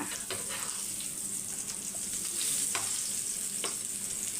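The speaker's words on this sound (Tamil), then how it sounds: "கருணக்கிழங்க திருப்பி போட்டுடலாம் சிம்மில் தான் வச்சுருக்கேன்" Elephant foot yam fries over low heat in a pan, a steady close sizzle with a few soft scrapes and stirs of a spoon, moderately quiet and with no voices.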